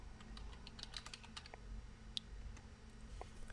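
Computer keyboard keys pressed in a short, quiet burst of scattered taps with one sharper click near the middle, over a low steady background hum.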